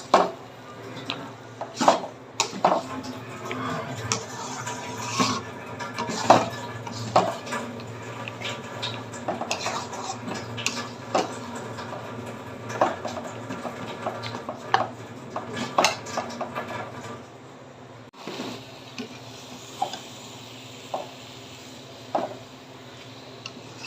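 A spoon scrapes and knocks against a pan while spices are stirred into a sweet, sour and spicy olive pickle, giving irregular close clinks and taps over a low background.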